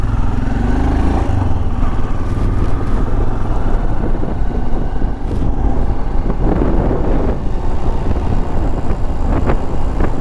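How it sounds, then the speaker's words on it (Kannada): A motorcycle on a Ladakh ride from Pangong to Sarchu, its engine droning and rattling steadily throughout, loud and close with continuous road and wind rumble, no talking. "ಎಂಥದ ಗಡಗಡ ಮಾಡ್ತಾ ಉಂಟು ಬೈಕ್."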